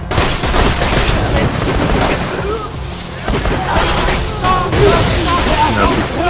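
Dense gunfire and explosions in the video game Borderlands 2, a loud chaotic barrage of rapid shots and booms, with voices talking over it.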